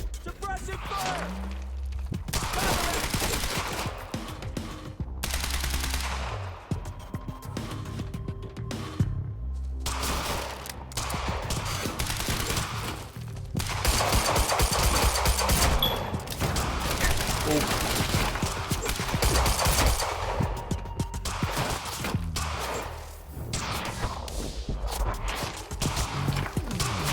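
Sustained gunfire fills a firefight in the video game Quantum Break, with dense bursts of automatic fire and single shots crackling across the whole stretch, brief pauses between volleys and shouted voices mixed in.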